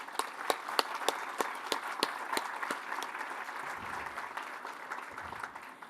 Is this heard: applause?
yes